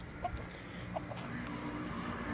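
Hens roaming freely around a yard give a few soft clucks, faint and somewhat distant over low background noise, with no speech.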